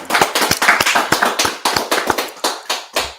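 Sharp, separate handclaps ring out from a small crowd in uneven bursts at a religious gathering, close and fairly loud, with no talking over them.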